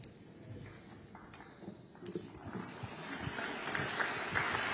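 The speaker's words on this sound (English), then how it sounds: "So the guy clapping wasn't because he liked it, it's because he wanted us out of the room." A single person claps at the close of a press conference after a minister is handed the floor, the claps rising slightly louder over the final seconds against a murmuring room.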